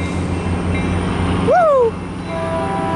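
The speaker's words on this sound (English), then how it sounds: "here goes Caltrain 193" A Caltrain passenger train rumbles steadily close by in Burlingame, and a loud horn blast rises and sustains for about half a second over the continuous rolling noise.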